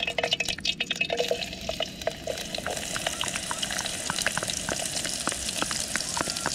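Onion and garlic frying in a pan at an outdoor cooking spot give off a loud, steady sizzle dotted with crisp crackles and pops throughout, with no voices.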